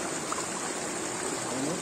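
Mountain stream running near the Geroldsau waterfall, a steady broadband rush of flowing water that holds constant and fairly loud, with no voices.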